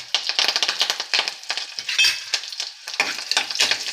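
Cashew pieces fry in a pan for tomato rice, giving bright crackling sizzles and spitting pops with occasional scrapes of stirring, close and busy throughout, no voices.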